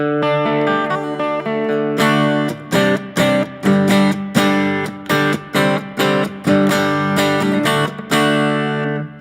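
Electric guitar on its middle pickup position strums a steady series of punchy, bright chords, each short and clipped, with a few sustained notes at the end.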